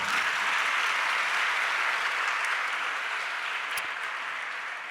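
Applause from an audience at a religious discourse in Jabalpur, a dense steady clapping that fills the clip and fades slightly toward the end.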